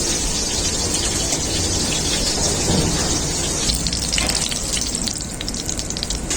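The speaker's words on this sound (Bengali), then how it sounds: "বেগুনগুলো আমার ভাজা হয়ে গেছে" Eggplant slices frying in hot oil, a loud, dense, continuous sizzle close by that thins slightly toward the end.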